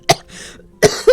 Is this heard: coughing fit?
yes